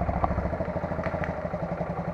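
A 2010 Honda BeAT carbureted scooter with low mileage idles steadily, its smooth, quiet engine putting out an even low rumble with faint clatter throughout, close by and without talk.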